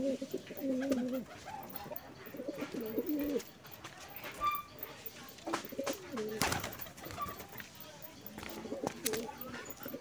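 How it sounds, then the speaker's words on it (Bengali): Pigeons coo in soft, repeated throaty phrases nearby while feeding on scattered mustard seeds outdoors, with scattered rustling, chirps and a brief bump. "দেখো সব পায়রা চলে এসেছে"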